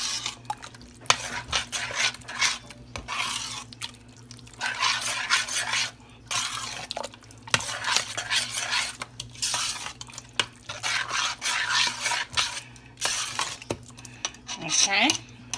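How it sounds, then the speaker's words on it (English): Chicken pot pie filling stirred with a utensil in a cooking pot, bursts of scraping and clinking against the pot wall repeating in rhythmic spells with brief pauses, close and moderately loud, no talking. "Give it a quick stir."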